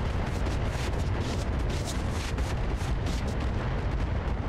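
Missile barrage firing and detonating in a turn-based video game, a dense continuous roar of rapid blasts and booms packed together without pause at steady high loudness.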